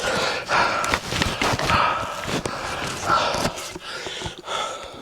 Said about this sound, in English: that's enough of my heavy breathing